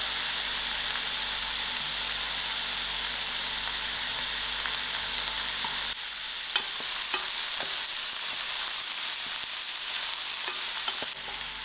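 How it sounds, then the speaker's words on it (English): Onions fry in melted margarine, giving a dense hissing sizzle that drops a little in level halfway through, with scattered stirring taps and scrapes and no talking. "My onions is getting soft, but it's not as brown yet."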